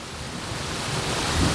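Heavy first rain of the Bhadra monsoon month pours down in Jhelum as a dense, loud, unbroken roar with a low rumble swelling toward the end.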